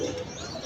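Pigeons coo softly in a loft of tame birds, a low steady murmur with faint chirps, close and continuous.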